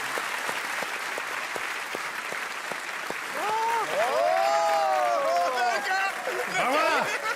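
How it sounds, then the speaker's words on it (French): An audience at a French talent show claps: a dense, even wash of applause that carries on throughout while someone talks over it and whoops and cheers rise near the end. "Commencez à applaudir, allez-y"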